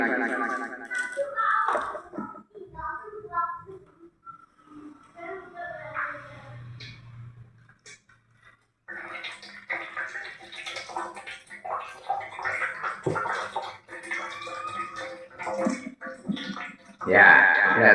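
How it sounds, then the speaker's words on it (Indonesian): Water spurts from holes punched in a container, a steady splashing gush that runs beneath continuous talking and grows louder toward the end. "Jadi yang paling cepat keluar airnya atau mancur lebih cepat"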